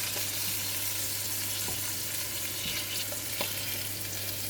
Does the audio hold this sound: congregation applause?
no